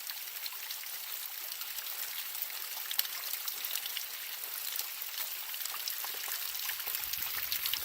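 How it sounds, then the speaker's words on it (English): Spring-fed water flows steadily down a small woodland stream, a continuous close trickling and babbling with no voices. "it flows down the stream and it goes under into groundwater, as you can see."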